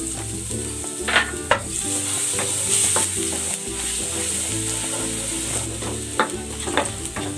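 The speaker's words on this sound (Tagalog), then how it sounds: "Igisa ko na tong bawang." Garlic sautés in hot oil in a pan for a chicken dish, a loud steady sizzle with occasional spatula scrapes and clicks, close and without talking.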